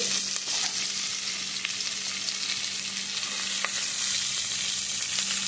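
Onion frying in a small pan of oil for a rasam, a steady dense sizzle with faint stirring clicks, continuous and close, no voices.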